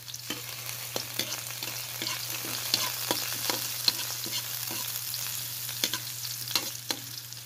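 Onion and garlic, added after ginger, sizzle steadily as they sauté in a pan for clam (tulya) ginisa, with a constant frying hiss broken by scattered stirring scrapes and a low steady hum underneath.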